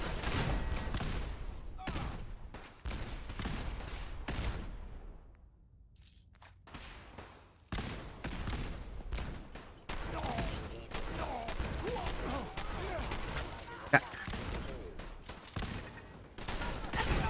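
Gunfire in the Fallout 4 video game, a rapid series of sharp, loud shots and bursts with a short lull midway, then renewed volleys, some with a glassy crack, heard close and mostly without talk.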